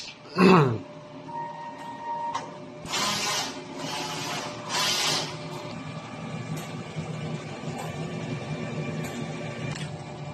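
A DTF printer runs a head cleaning cycle, giving a short mechanical burst, then a few hissing pump and spray bursts with faint motor whine, moderately quiet throughout.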